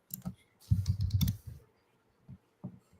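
Someone types on a computer keyboard, with a quick cluster of soft, close key taps followed by a few isolated clicks after short pauses.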